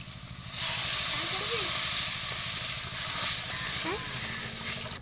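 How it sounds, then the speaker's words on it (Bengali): Water hits a pan of fish masala for a Bengali fish curry, setting off a loud, steady hiss and sizzle that fades slightly toward the end, with no speech. "মাছের মশলা কষিয়ে নিয়েছি এবার জল দিয়ে দেবো"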